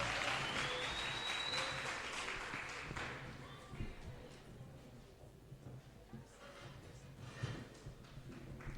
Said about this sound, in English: May we please give a clap to them